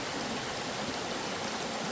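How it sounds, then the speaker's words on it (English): North Coal Creek rushes along in a steady, broadband wash of flowing water, close and constant with no breaks or other sounds. "And so this is North Coal Creek here."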